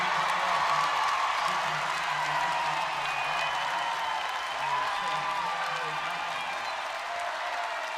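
Crowd at Assembly Hall roaring and applauding during an Indiana women's basketball game after a deep three, a steady, loud wall of cheering and clapping that holds for the whole stretch.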